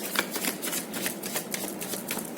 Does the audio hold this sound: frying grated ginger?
no